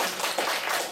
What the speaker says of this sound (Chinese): 那请热烈的掌声。